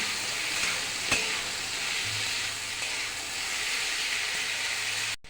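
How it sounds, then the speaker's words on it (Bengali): Cauliflower florets seasoned with salt and turmeric fry in a pan, giving a steady, close, broad sizzle with one sharp stirring knock early on and no voices. "এবার একটু ভেজে নেব, ভালো করে ভেজে নেব ফুলকপিগুলো।"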